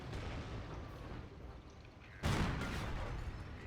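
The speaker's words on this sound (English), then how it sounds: "Sector artillery." Artillery fire in the Company of Heroes game, heard as a single sudden boom partway through, faint and distant against low background noise.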